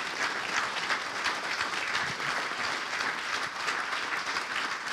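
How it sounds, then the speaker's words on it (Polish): An audience at a live book launch event applauds in a steady, dense wash of many hands, sustained and even throughout with no voices standing out. "Jeszcze wielkie brawa, tak, wielkie brawa."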